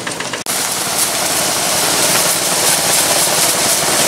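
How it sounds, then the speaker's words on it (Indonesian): An engine-driven spray washer runs steadily, a loud, constant engine drone mixed with the broad hiss of a water jet blasting crusted deposits, with a brief dropout near the start. "Mang Rawedeng mulai beraksi nyuci bubur naga menggunakan alat semprot bos, supaya cepat bersih kerak-keraknya"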